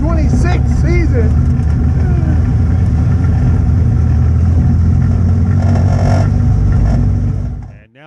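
Race cars at Hattiesburg Speedway roar loudly together at the start of a 2026 season-opening race, with a dense, sustained engine drone and rising revs throughout, fading out abruptly at the end.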